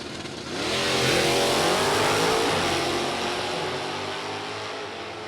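Two drag racing cars, a Duster and a red Camaro, launch side by side at an NHRA Sportsnationals event, a loud sustained roar of revving engines swelling after a brief lead-in and holding steady as they pull away.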